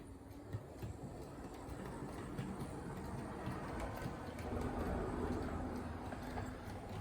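A Heljan 10800 model locomotive rolls over track points into sidings with a faint, steady low rumble and light rail clicks, with no one speaking.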